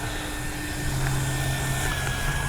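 A Freewing 70mm Yak 130 RC jet running its electric ducted fan in reverse thrust, a steady high whine with tonal hum that rises slightly partway through, close and continuous without speech.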